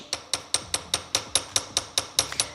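Light hammer taps spreading a small metal rivet on a piece of handmade jewelry, a dozen sharp, evenly spaced metallic strikes at a steady rhythm, close and clear with no talking.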